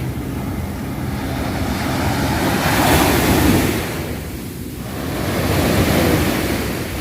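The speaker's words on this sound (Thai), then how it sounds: "เดินมาจุดนี้คลื่นก็ยังแรงก็ยังสูงอยู่นะคะ" Strong, high ocean waves roll and break along Bang Saray beach in Sattahip, Chonburi, surging in two broad swells of rushing surf with steady wind noise and no talk.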